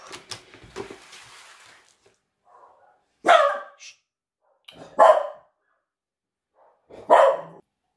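A dog barks three times nearby indoors, loud single woofs spaced about two seconds apart, after a brief stretch of handling noise and faint sounds.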